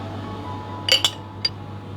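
A spoon taps and clinks against a bowl while a spoonful of mayonnaise is added to a sandwich filling: two quick bright clinks then one more, close and clear over a steady low hum, no talking.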